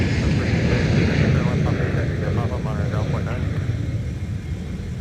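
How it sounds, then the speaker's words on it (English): A Sun Country airliner bound for LAX takes off from runway 30 Left at MSP airport, a broad, loud jet roar that slowly fades while a voice talks over it. "we are going to get, I think, our first Sun Country departure of the afternoon on 30 left"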